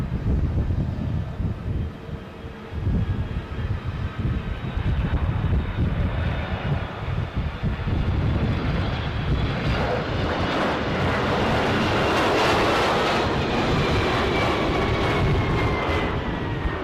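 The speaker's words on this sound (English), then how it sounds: "we've got a Delta Airlines 767 arriving from Atlanta" Delta Airlines Boeing 767 arriving at Edinburgh airport from Atlanta, a loud, steady jet roar that builds and swells toward the end as the aircraft passes close, with no talk over it.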